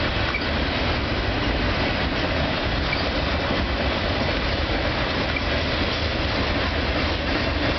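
CN local freight train with empty boxcars rolling past in Burlington, Ontario, a steady broadband rumble and rattle of wheels and cars that holds at constant loudness throughout, with no voices.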